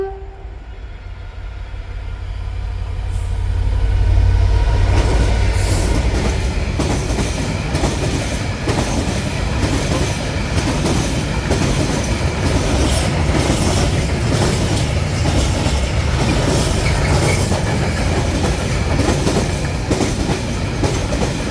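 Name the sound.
train 66749 passing south through Northallerton station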